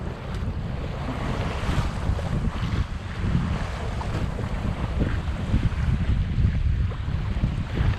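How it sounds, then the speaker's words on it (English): Choppy East Coast waves slap and rush against the hull of a small sailing yacht heading from Hamford Water to Brightlingsea, with constant loud wind buffeting the microphone in a dense, unbroken roar and no talk. "Known as the East Coast chop, it's famous for it."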